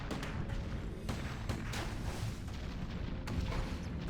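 Mortar artillery in a strategy video game fires in a dense run of muffled thumps and distant booms that overlap into a continuous rumbling barrage, fairly quiet throughout.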